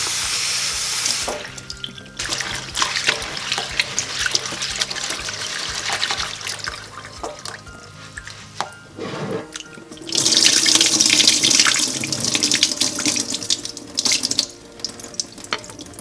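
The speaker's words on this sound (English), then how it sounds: "We'll pick through the lentils and then we'll rinse." Tap water runs into a kitchen sink while lentils are rinsed, a close splashing rush that shifts in tone as the flow is interrupted and resumes, with a louder, fuller stream in the later part.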